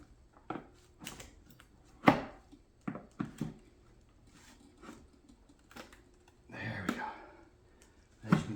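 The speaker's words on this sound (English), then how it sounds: "now you're going to have to get underneath this lip and start prying this off" Plastic on a BMW 135i headlight is pried apart with a tool, giving a string of sharp clicks, cracks and scraping snaps spread irregularly over several seconds, fairly close and quiet overall.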